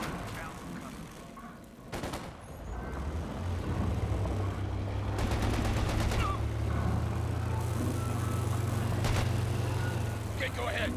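Sustained bursts of machine gun fire rattle through a Company of Heroes 2 battle, sharp rapid volleys recurring over a steady low rumble of engines and battlefield noise.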